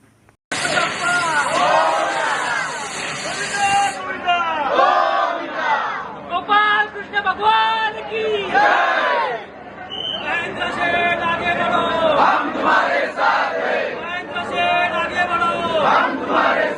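Large festival crowd roars and cheers at a Dahi Handi celebration in Ulwe Node, loud and continuous, with shouted chants and overlapping voices rising and falling throughout.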